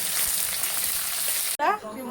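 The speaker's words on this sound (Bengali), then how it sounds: "কারি পাতাটা ভাজা হইলে পেঁয়াজটা ভাজবো" Onion and curry leaves fry in hot oil with a steady, loud sizzle that runs without pause, then cuts off abruptly near the end before a short burst of softer crackle.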